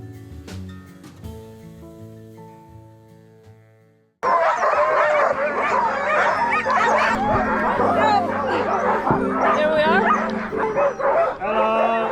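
Husky sled dogs on a winter sled ride in Lapland, Finland, barking, yipping and whining excitedly all at once, loud and close, after a quiet musical opening, with people talking among the din.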